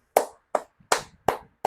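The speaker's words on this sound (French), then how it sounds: "Je vous applaudis encore." Five sharp, separate hand claps in a steady slow rhythm, close and fairly loud, with nothing else around them.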